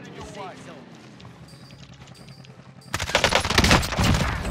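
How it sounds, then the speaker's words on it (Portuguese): Rapid bursts of gunfire in the shooter game Call of Duty: Warzone erupt loudly near the end, a dense crackling volley following quieter footsteps and game noise, while players talk over it. "O zumbi deu tiro"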